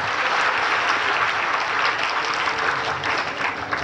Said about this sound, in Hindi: जरा जोरदार ताली बजाइए